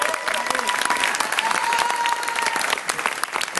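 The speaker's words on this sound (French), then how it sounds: "On peut applaudir Gérard Davlu" A crowd at a celebration for the 145th anniversary of the Enfants de la Besbre applauds Gérard Davlu, a dense, sustained round of clapping with voices and a faint tone mixed underneath.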